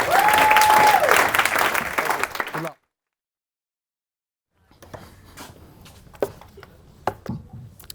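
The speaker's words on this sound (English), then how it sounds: "Round of applause, Eric, BDR from Zuora" An audience at a business talk applauds a speaker, a loud dense round of clapping that stops abruptly, followed by silence and then faint room noise with a few scattered knocks.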